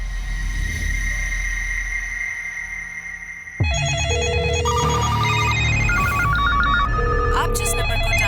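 A telephone call is placed in a crime drama about a fake bank fraud call: a low steady hum gives way to a sharp run of electronic dialing and ringing tones that stay loud and close to the end.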